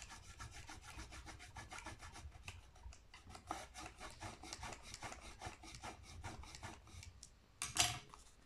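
A bone folder is rubbed firmly along a crease in paper while making a sliding box, in a steady run of close, rasping strokes with a sharper scrape near the end.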